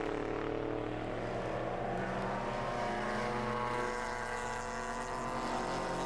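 A race car, the Opel Manta 400, passes through a section of the Castle Combe circuit during a sports and saloons championship, its engine a steady harmonic drone that holds loud and near throughout with no talk.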